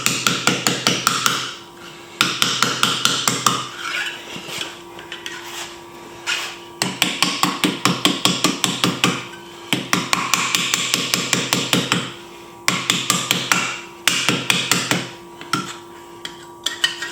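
A metal scabbard being hammered on a mandrel, loud sharp strikes in rapid bursts separated by short pauses, close and ringing, with no talking.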